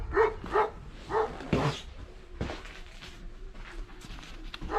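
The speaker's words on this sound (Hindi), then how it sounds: "तो कुत्ता मुझे भौंक रहा है।" A dog in a snowy Kazakhstan village barks several times in close succession near the listener, with sharp repeated barks early on and a quieter stretch of outdoor ambience after.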